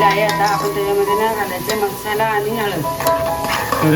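Onions frying and being stirred in a pan as a base for a dried-fish curry, with steady sizzling and repeated scraping strokes of a spoon throughout, close and fairly loud with no voices.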